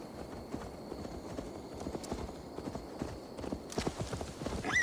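Horse hooves clip-clopping at a walk in the video game Assassin's Creed Valhalla, a quiet, steady rhythm of hoof strikes over faint background ambience.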